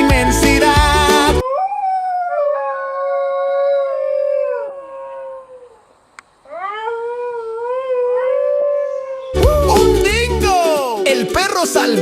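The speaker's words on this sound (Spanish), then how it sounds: "¡El perro salvaje de Australia!" An Australian wild dingo gives two long, drawn-out howls that rise and waver. The howls sound loud and close, with louder voices or music just before and after them.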